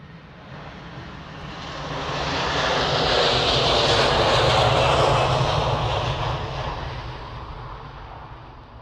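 Airliner bound for Beijing taking off at Manchester Airport, a broad roaring jet engine rumble that swells to a loud peak mid-clip and then slowly fades as it passes.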